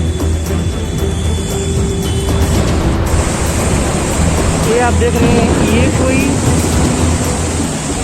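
Floodwater from monsoon rain rushes fast across land near Haridwar, a loud, constant roaring wash with wind buffeting the microphone while someone talks over it.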